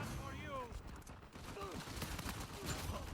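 Gunfire from a teammate in Uncharted 4 multiplayer, a rapid fusillade of shots crackling through a busy, dense game mix, steady and mid-distance.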